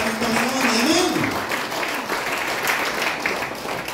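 A church congregation claps loudly in a dense, sustained burst of applause, with a voice calling out over it at the start before the clapping carries on alone.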